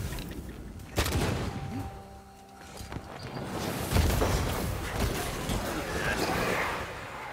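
Gunshots from a possessed corpse in Banishers: Ghosts of New Eden, a sharp shot followed by rumbling blasts and a dense roar of fire, mid-distance, with game sounds around it.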